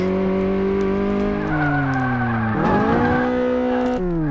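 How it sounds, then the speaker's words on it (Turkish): A car engine in the Car Mechanic Simulator 2018 game drones steadily up close, its pitch sliding down and up as the revs shift, with a brief rough surge midway before settling back into a smooth hum. "Valla motor efsane. Motor konuşuyor."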